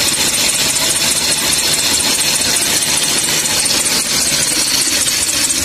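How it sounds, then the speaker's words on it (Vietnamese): Toyota Vios engine running with a worn, squealing serpentine belt, heard as a loud, steady mechanical roar with a continuous high-pitched whine and no talking. "Cái này mình đang cầm máy nó nổ đó để cho các bạn nghe cái tiếng kêu của nó nha."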